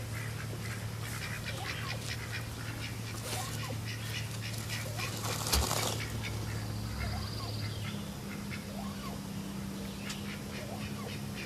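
Ducks quacking in a backyard poultry yard shared with chickens, repeated calls near and far over steady outdoor noise with a continuous low hum.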